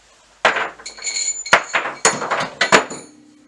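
Metal bars screwed into the threads under the table of a Lurem C260J planer-thicknesser clank and clink in a quick irregular series of sharp metallic knocks, close and loud.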